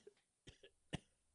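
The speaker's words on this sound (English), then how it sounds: "he began to cough" Two short, soft coughs, spaced about half a second apart, close and quiet.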